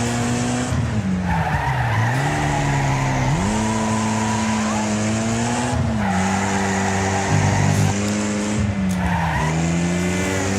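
Race cars in the demolition racing game Wreckfest howl continuously at high revs, their engine pitch dipping and climbing while tires squeal and skid through the corners, loud and close with no talking.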